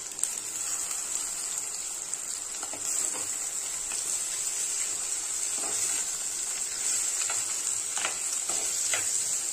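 Cut bitter gourd sautés over a medium flame in a pan for a tamarind kuzhambu, giving off a continuous even sizzle with occasional faint stirring clicks.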